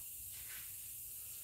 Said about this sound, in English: I'm going to grab my spray bottle of alcohol and run that through it